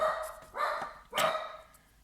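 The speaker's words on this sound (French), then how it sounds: "ma petite chienne qui aboie" A small female dog barks three times in sharp, separate bursts, close by and loud, each bark fading quickly with short gaps between.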